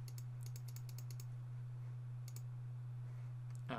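Quiet computer mouse clicks while selecting captcha images during Steam account setup, a quick cluster of light clicks early, a pair later, over a steady low electrical hum.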